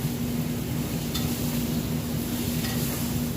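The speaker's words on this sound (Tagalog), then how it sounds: "Pag sinasangkot siya po ng maayos, yung kamatis at saka sibuyas" Tomatoes and onions sautéing in a pan, a steady close sizzle with soft stirring scrapes throughout, no talking.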